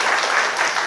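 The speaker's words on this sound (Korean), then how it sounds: "우리 박수 한번 격려할까요?" Brief burst of dense applause from a church congregation cheering its worship team during a service, steady and close throughout with no talk over it.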